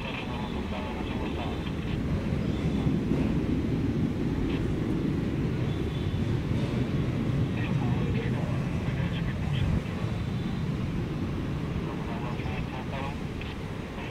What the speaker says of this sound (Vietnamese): Và bây giờ thì chiếc máy bay được lệnh tiến lên đường băng 25 trái và dừng chờ ở đây.